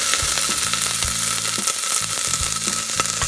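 Vegetables hit a hot pan for sauté in a mutton soup with broccoli, celery, carrot, beans and spring onion, giving a loud steady sizzle with stirring scrapes and clatters throughout, no voices.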